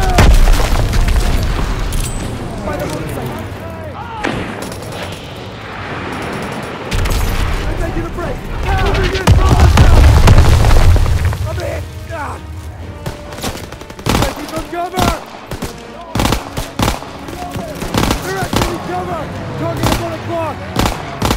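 Heavy World War 2 combat in Call of Duty: booming explosions and sustained machine-gun cover fire, loud and continuous with dense bursts of rapid shots and shouted voices mixed in.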